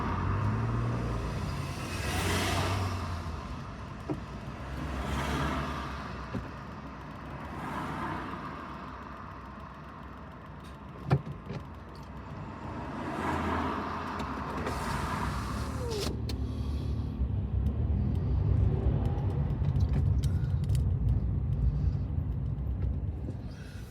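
Busy rush-hour road traffic on Waterloo Road, a steady roar of passing cars and heavier vehicles with repeated swells as they go by and louder low engine rumble toward the end.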